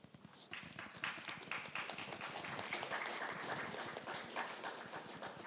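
Thin, scattered clapping from a small audience at a book launch in Grenada as the Acting Chief Education Officer walks up; a steady, moderate patter of hands with no voices.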